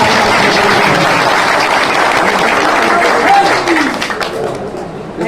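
Crowd clapping and cheering at an outdoor political rally for an independent candidate, a dense sustained wash of applause that fades slightly toward the end.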